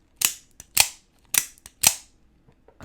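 A pocket knife is shaken in the hand and rattles sharply. Four loud, crisp clicks come at an even pace close by, with nothing else heard between them.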